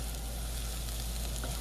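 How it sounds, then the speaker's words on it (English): Rice browns in a hot pan, giving off a steady, dense sizzle that fills the whole moment with no pauses. "you want to brown your rice"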